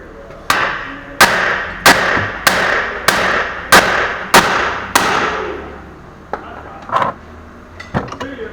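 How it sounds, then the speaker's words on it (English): A hammer taps the steering knuckle of a 2012 Hyundai Veloster to free the lower ball joint: eight loud, sharp metallic strikes about 0.6 s apart, then a few lighter, scattered knocks. "we'll use a hammer probably and tap here a few times, maybe on both sides, and it should free the lower ball joint from the steering knuckle"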